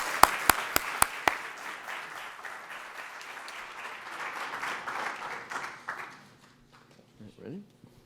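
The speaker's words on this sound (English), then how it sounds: "A round of applause." Audience applause at a university business competition event, opening with a few loud separate claps, then a steady mid-distance wash of clapping that fades out by about six seconds.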